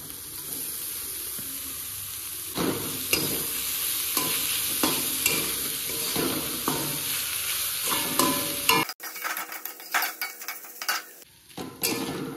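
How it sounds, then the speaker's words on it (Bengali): Minced chicken fries in a pan with turmeric and salt, a steady close sizzle broken by rhythmic scrapes and knocks of a spoon stirring. The sizzle cuts out near the end, leaving clatter and clinks of utensils. "চিকেনটাকে ভালোভাবে ভাজা ভাজা করতে হবে।"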